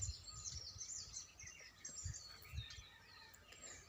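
Birds call near water where herons wait to catch fish, giving faint, high, thin chirps and calls at a distance over a quiet outdoor background, with occasional low thumps.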